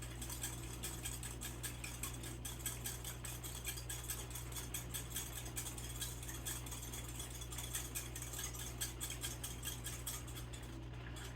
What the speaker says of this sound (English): add 2 tablespoons of flour. And whisk that together.